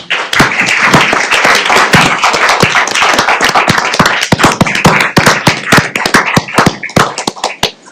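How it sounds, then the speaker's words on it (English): Applause from an audience at a county board meeting, a dense, steady burst of many hands clapping close by for about eight seconds, thinning toward scattered individual claps at the end. "if we can all applaud"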